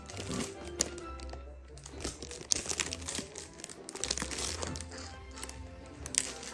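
Gift wrapping paper crumples and tears as a Saint-Nicolas present is opened at home, bursts of close crinkling and ripping, with children's voices chattering in the background.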